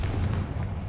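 Fiery Confringo spell blast in Hogwarts Legacy, a dense continuous rumble of booming fire lasting about a second, loud and close with no talk.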